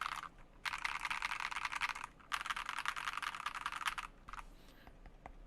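A Monsgeek M3 mechanical keyboard fitted with alpha keycaps clatters under fast typing in two long bursts, crisp and close, with a brief pause between them and a few scattered keystrokes at the end.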